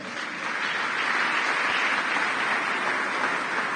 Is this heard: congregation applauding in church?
yes